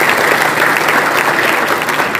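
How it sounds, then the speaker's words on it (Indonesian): A large audience at an Islamic sholawat gathering with West Java regional police claps loudly and continuously for its leaders, a dense, steady roar of hands with no talk. "Tepuk tangan untuk pimpinan kita."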